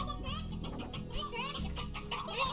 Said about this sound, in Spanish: aquí una gallina vieja